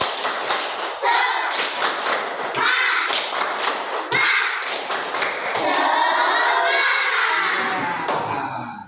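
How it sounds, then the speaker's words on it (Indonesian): A third-grade class performs a rhythmic spirit clap chant, bursts of group clapping and thumps alternating with children's chanting voices, loud and close. "Tepuk semangat."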